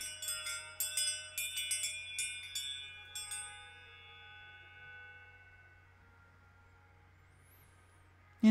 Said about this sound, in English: as you hear my bell ring, you can truly let yourself